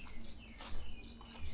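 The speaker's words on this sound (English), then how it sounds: "being out in the forest and listening to birds" Birds chirping in a Korean forest on Bongseosan mountain, several short bright calls scattered over a quiet, faint background.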